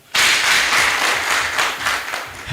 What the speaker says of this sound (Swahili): Tunawashukuru sana, makofi kwao.